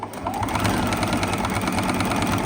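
A sewing machine stitches fabric for a reusable Easter egg with a pocket, its needle chattering in a fast, even mechanical rhythm that stays close and steady throughout.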